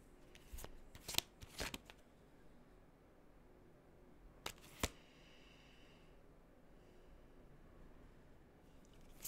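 Tarot cards from a pick-a-card reading, shuffled and set down in a few quick crisp riffles and slaps near the start and middle, with quiet room hush between.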